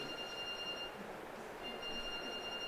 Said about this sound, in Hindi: अलार्म किसका लगा?